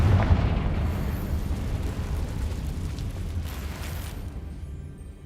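Confringo fire spell exploding in Hogwarts Legacy, a loud booming burst with a deep rumbling roar that swells at the start and slowly rolls off over about five seconds, close and alone.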